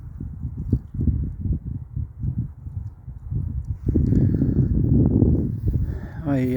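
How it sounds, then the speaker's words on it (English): Two swans and a cygnet feed on weed at the water, making a rapid, rhythmic series of soft, close dabbling and pecking thuds that grow denser and louder toward the end. "two swan and a cygnet eating the weed"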